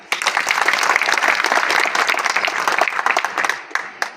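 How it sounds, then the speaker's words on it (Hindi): An audience at a National Safety Week event in Jamnagar bursts into loud, vigorous applause. Close, dense clapping continues steadily for several seconds, then tapers off slightly at the end. "सब जोरदार तालियां।"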